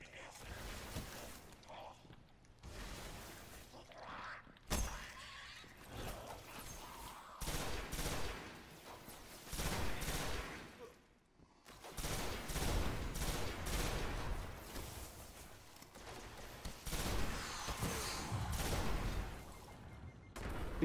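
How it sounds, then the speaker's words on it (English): Enemy gunfire in the video game Destiny, bursts of shots crackling in clusters, fairly loud and broken by short pauses, with talk at times underneath. "You're shooting me from over here."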